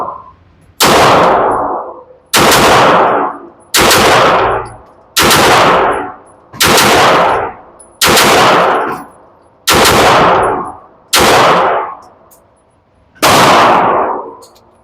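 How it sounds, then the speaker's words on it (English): Girsan Witness 2311 Match X pistol firing at a target, with nine loud, sharp gunshots spaced evenly about one and a half seconds apart, each ringing out briefly before the next, close and with no talking. "We're going to do a little double tap."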